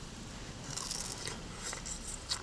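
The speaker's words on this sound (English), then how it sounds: "This should be good to chew. This is sugarcane" Someone biting into and chewing a piece of sugarcane, giving close, fairly quiet crunching and crackling with a sharper snap near the end over a soft background hiss.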